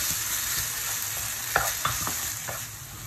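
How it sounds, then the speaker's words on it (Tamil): Tomatoes fry in a pan of fish sambal with a continuous close sizzle, punctuated by a few sharper clicks and scrapes of stirring, no voices. "இப்போது தக்காளி போட்டுக்கலாம். நான் 2 தக்காளி போட்டேன்."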